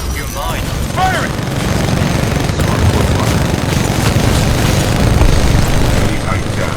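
A Titan in the video game Titanfall 2 firing its weapons, loud continuous booming and rapid heavy gunfire with rumbling blasts, under a brief chirping sound effect.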